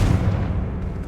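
A Confringo fire spell cast in the Hogwarts Legacy video game, a continuous loud low rumbling burst with dense crackling energy, sustained for about a second without speech.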